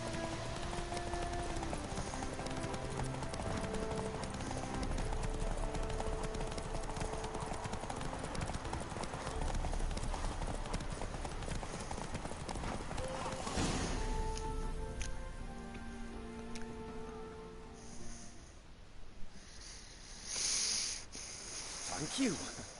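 Roach the horse from The Witcher 3 clip-clops along at a steady walking rhythm, hooves close and clear over game music and ambient sound, with a voice speaking and the hoofbeats thinning out near the end.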